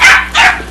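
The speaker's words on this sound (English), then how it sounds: "Did someone let a dog in here?" A dog barks indoors, two sharp, loud barks in quick succession, close by and with no other sound around them.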